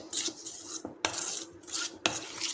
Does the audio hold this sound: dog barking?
no